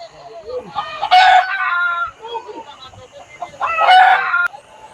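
Laying hens cluck loudly close by, with two bursts of crowing-like squawks rising out of softer clucking and bird chatter.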